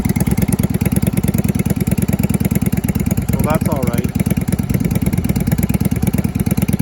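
A 1988 Yamaha Virago XV750 bobber motorcycle with baffled exhaust idles with a rapid, steady exhaust putter, loud and close, while someone speaks briefly over it.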